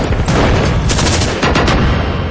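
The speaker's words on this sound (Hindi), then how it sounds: "फायरिंग हुई।" Gunfire in a militant attack on a BSF officer: a loud, dense burst of rapid shots with booming reports, continuous over a couple of seconds with no talking.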